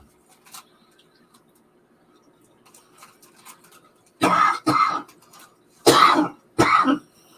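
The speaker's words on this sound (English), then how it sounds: "Excuse my cough." Four loud, close coughs and throat clears come in two quick pairs during a hobby painting session, after several seconds of quiet with faint clicks and small handling noises.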